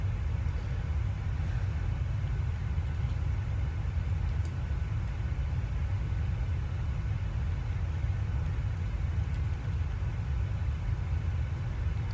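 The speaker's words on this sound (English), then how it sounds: "I can hear the engines rolling back. Listen to that bass." Steady low rumbling drone of PMDG Boeing 737 jet engines in a flight simulator from Phoenix toward San Jose, heavy bass-weighted and constant throughout, with no talk over it.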